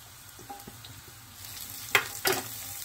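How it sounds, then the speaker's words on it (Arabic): Onion slices sautéing in a little oil in a pan, a faint soft sizzle with a few scraping stirs and two sharper clatters near the end, quiet and close. "نشوح شرايح البصل كده لحد ما تدبل سنه"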